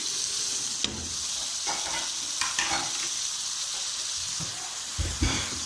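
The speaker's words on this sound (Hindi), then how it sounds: "अब इसको इसी तरह हम भूनेंगे" Chicken with tomatoes and green chillies fries in a pan with a constant loud sizzle, broken by several scraping stirs and spatula knocks as the pieces are turned.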